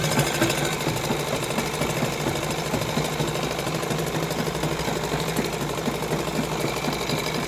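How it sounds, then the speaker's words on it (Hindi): A sewing machine stitches the inner lining onto a heavily hand-embroidered suit, running loud and continuous at close range with a rapid, rattling mechanical chatter throughout. "दोबारा एक पंजे का गैप देकर दूसरी सिलाई लगाएंगे"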